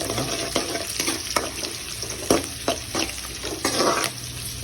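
Mustard seeds, curry leaves, green chili, garlic and a few beans sizzle and crackle in hot oil, with a steady fry broken by sharp pops and spatula stirs at close range and no talking.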